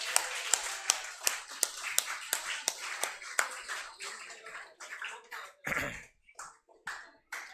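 A class of students gives a round of sharp claps, spaced at first and then thinning into scattered softer claps, with murmurs, a cough and brief voices near the end, heard close in an indoor lecture room.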